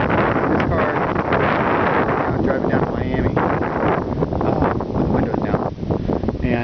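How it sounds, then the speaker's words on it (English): Steady, loud wind rush from driving a 1950 Oldsmobile Futuramic Deluxe 88 with a 72 Olds Rocket engine and 400 turbo transmission, windows down, continuous broadband buffeting throughout. "I'm driving down to Miami with the windows down."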